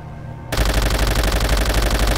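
Loud, sustained machine gun fire in Call of Duty: World at War erupts suddenly after a brief quiet moment, then hammers on in a rapid, unbroken stream of rounds up close.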